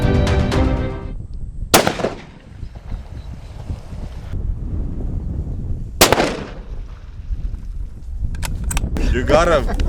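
A rifle fires while hunting in Namibia: two sharp, loud cracks several seconds apart stand out over outdoor rumble and wind, with a voice heard near the start and end.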